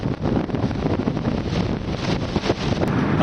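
Strong coastal wind at Coolum buffets the microphone in a steady, loud, broadband roar that stays dense and unbroken throughout, with no voices heard.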